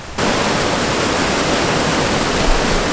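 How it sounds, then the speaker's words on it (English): A river rushes loudly along a wilderness stretch of the Appalachian Trail in Maine, a steady, dense roar of fast water that starts abruptly and holds unbroken and close throughout. "It's a bit disconcerting to listen to that river"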